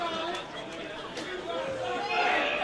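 Crowd at a wrestling show murmuring in a low, continuous babble of many voices, steady and fairly even throughout after a stunning upset.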